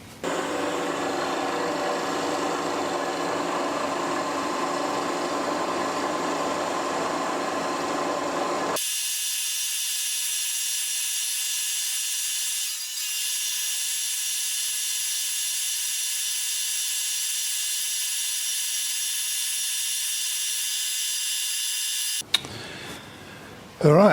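A milling machine cuts a metal part for a Webster engine, aiming for an 8 mm thickness, making a loud, steady high-pitched whine with a harsh broadband cutting noise at first, then a sustained tonal scream that stops abruptly near the end.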